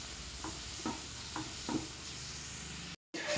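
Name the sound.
stirring karimeen (pearl spot) pappas curry in a pan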